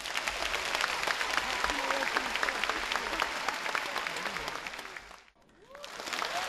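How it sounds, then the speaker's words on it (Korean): Sustained audience applause fills a concert hall as Kim Duk-soo's samulnori troupe and the Hanullim arts company walk toward the stage with a municipal Korean traditional music orchestra, dense and steady for several seconds before briefly dipping and swelling again. "큰 박수로 모시겠습니다."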